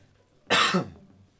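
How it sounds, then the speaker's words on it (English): A single short, harsh cough, close and fairly loud, in an otherwise quiet space. "That's a nasty cough"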